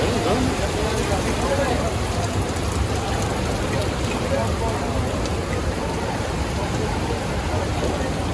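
Heavy rain pours down continuously during flooding in Edappally, in a dense, even hiss that fills the whole scene without letting up.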